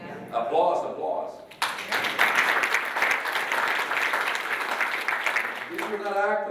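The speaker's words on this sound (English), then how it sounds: "Applause." An audience breaks into sustained applause, a dense wash of clapping that swells and holds for several seconds, with brief talk just before and after it.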